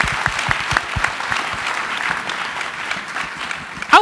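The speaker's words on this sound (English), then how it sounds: "Give them a round of applause, please." An indoor audience at a tech conference gives a round of applause for a panel, steady clapping from many hands that lasts about four seconds before dying down.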